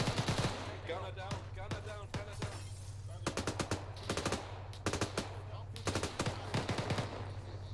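Heavy .50 cal machine gun mounted on a technical roars in a military video game, firing repeated sharp bursts of rapid shots over a steady low engine drone, with squad radio chatter mixed in.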